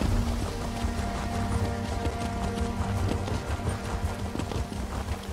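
A horse ridden at pace in the video game The Elder Scrolls Online: a rapid, continuous clip-clop of hooves, fairly close and even, with faint ambient background.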